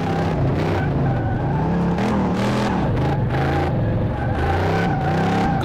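A Dodge Charger races in Car Mechanic Simulator 2018, its engine roaring continuously and loud, with pitch climbing and dropping through repeated gear changes and revs.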